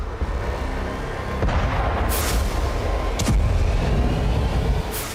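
A few deep, heavy booms break through a constant low rumble, spaced a second or two apart, distant but powerful, from drone-attack explosions on Russian cities and oil facilities.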